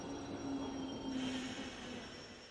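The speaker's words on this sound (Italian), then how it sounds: "treno locale, linea centrale per stazione Primavera." A local train on a central line in a video game rumbles steadily past, with a sustained metallic squeal and a steady drone and no voices.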